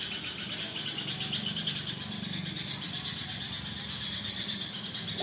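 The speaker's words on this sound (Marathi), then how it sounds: "हे बघा जवळच आहे तो पक्षी." Continuous high-pitched chirping and twittering from birds nesting inside a house, steady and fairly close, with a constant background hum and no talk.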